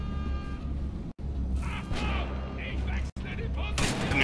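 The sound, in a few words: turret gunfire in the video game Wolfenstein: The Old Blood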